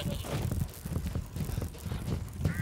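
Hooves of a goat in Resident Evil Village clop rapidly and irregularly, a close, busy patter of light steps over a murky game background.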